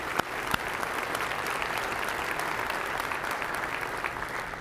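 Sustained audience applause at a city's State of the City address, a broad, even roar of many hands clapping continuously at steady volume, with a couple of sharper claps near the start.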